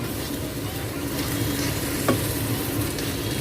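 Fried kway teow noodles being stirred in a hot wok with spicy sauce, giving a loud continuous sizzle and frying hiss with soft stirring scrapes and one brief metallic clink.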